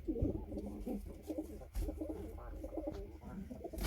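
Soft, low pigeon coos repeat close by, overlapping in a gentle rumbling rhythm with a few small rustles.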